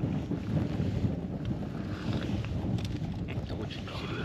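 Strong wind buffets the microphone beside Lake Vozhe during a fishing trip, a steady broadband roar with gusts and faint water lapping, continuous and close throughout.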